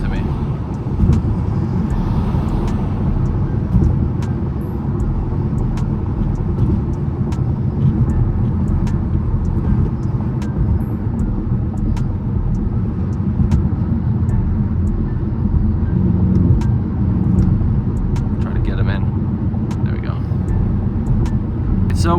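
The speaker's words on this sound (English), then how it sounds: "He definitely went full throttle. I went full throttle right behind him" A BMW M6 and a Mercedes-AMG C63 accelerate at full throttle through traffic, heard from inside as a loud, steady, continuous engine and road roar lasting the whole stretch.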